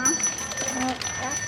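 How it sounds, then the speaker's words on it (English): A bell rings with a bright sustained metallic tone under ongoing talk and background room noise, at moderate loudness, in a short span. "We are ringing the bell."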